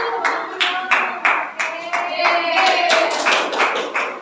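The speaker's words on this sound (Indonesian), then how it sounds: "Oke, tepuk tangan dulu." A primary school class applauding in a classroom: brisk, continuous clapping from many hands with rhythmic surges, close and lively, with faint voices mixed in.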